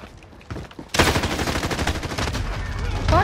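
Rifle gunfire in a video game: a quiet few shots, then a sudden loud burst of rapid automatic fire rattling on for over two seconds, with faint game noise underneath.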